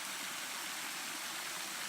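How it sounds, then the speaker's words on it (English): A waterfall of hot spring water pours out of a tub into a river, giving a steady, even rushing and trickling wash with no other sounds. "That waterfall."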